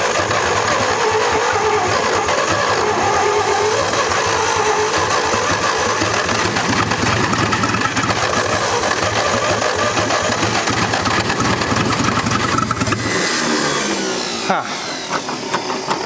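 A 1946 International truck engine, long abandoned and once locked, cranks over continuously and loudly with a rough churning drone, recorded close, before the cranking drops off near the end.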